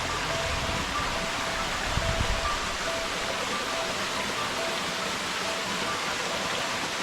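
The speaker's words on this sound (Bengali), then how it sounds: "আমরা এখন ত্রিপুরা শহীদুল ঝর্ণায় আসছি" A hill waterfall in Bandarban, the Tripura Shahidul falls, gives off a steady broadband rush of falling water, constant and fairly distant, with faint voices and a low thump underneath.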